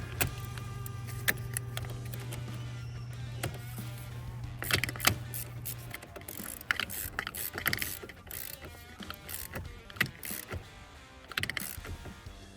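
Car battery terminal lugs being tightened, close ratcheting clicks and metallic clinks in uneven bursts, with a low steady hum fading out early on.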